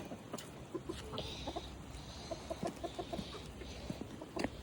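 Backyard chickens cluck softly in short, scattered bursts, with an occasional longer call, heard at a moderate distance over faint background noise.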